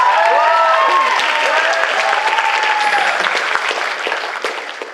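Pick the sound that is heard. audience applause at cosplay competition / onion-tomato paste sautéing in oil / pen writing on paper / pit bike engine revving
audience applause at cosplay competition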